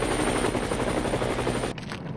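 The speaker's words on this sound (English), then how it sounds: "It's not easy to swoop in a helicopter, man." A helicopter thunders close overhead with a loud, rapid rotor chop that holds steady, then suddenly drops away near the end as the sound cuts to something quieter.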